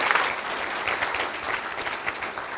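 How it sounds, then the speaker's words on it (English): A room full of people at a State of the City address gives a steady round of applause, a continuous patter of clapping heard at moderate distance. "How about a round of applause for those that provided that service?"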